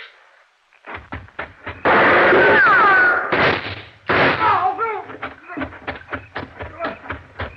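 Gunshots ring out in an old-time radio crime drama, with a few sharp bangs and a loud burst mixed among tense voices and other clattering effects.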